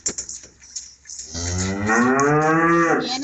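Cattle lowing: a few soft snorts and shuffles, then one long, loud, close moo rising and holding for nearly two seconds, with no talk.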